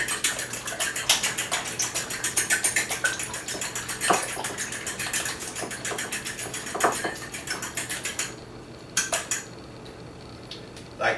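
A whisk beating eggs in a bowl: fast, steady metallic clicking and scraping in a regular rhythm, loud and close, slowing into a few separate taps near the end.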